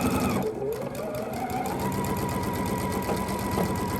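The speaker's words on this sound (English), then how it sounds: "And we're just going to stitch our 1/4 inch seam allowance." A sewing machine stitches a quarter-inch seam while chain piecing quilt blocks, a fast, steady mechanical whirring hum that runs close and loud without pause.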